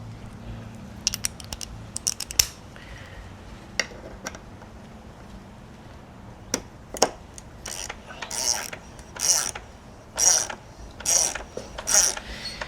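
A bolt being tightened on an electric mountain bike, a Specialized Levo SL, with sharp ratchet clicks and scattered metal taps, then a run of rhythmic ratcheting bursts near the end, close and clear.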